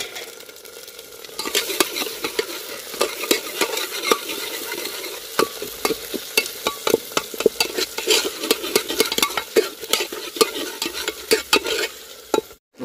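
Dal simmering in a pan with chili and tomato is stirred, a spoon scraping the metal in steady, repeated clinks over a soft sizzle, close up with no talking.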